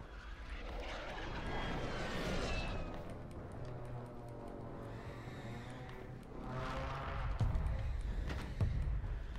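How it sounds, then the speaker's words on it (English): A bomb drone in the Warzone game on Rebirth Island flies nearby with a steady propeller drone and whine, rising and falling in loudness over several seconds under game ambience. "Oh my lord, he got a bomb drone."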